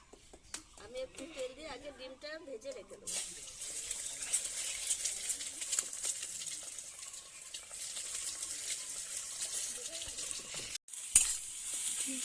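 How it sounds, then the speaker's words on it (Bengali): An egg frying in a little oil in a pan, with a voice talking briefly at first, then a steady, close crackling sizzle that carries on to the end. "আমি একটু তেল দিয়ে আগে ডিমটা ভেজে রেখে দেবো।"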